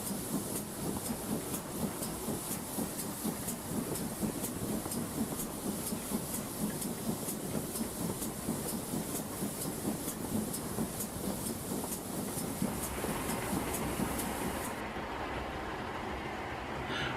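Dapol model GWR Manor class steam locomotive running, a steady rapid rail clatter with bright hissing noise that holds for about fifteen seconds and then fades abruptly, leaving a quieter rumble.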